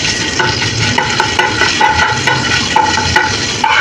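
Vegetables sautéing with ginger-garlic paste in a pan for homemade momos, giving a loud, close sizzle broken by rhythmic scraping and clinking from stirring.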